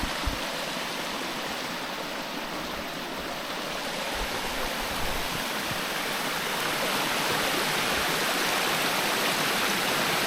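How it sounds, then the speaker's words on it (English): Water pours over a stone weir on a mill race in a forest park, a loud, steady rushing roar without pause and no voices. "that's the weir there for the mill race that goes down to the mill pond"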